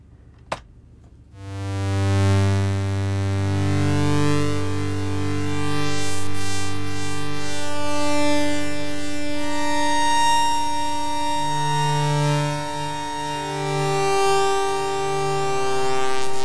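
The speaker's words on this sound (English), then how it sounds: "It's just the changing of the pulse width that's making that sound." A pulse-wave oscillator programmed in ChucK, its pulse width swept by an LFO, sounds after a brief click as a steady buzzy synth tone whose harmonics shimmer and slowly shift for about fifteen seconds.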